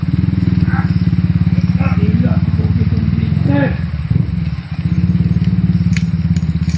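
A motorcycle engine runs loud and close with a steady, throbbing rumble that dips briefly before resuming, while a person talks over it.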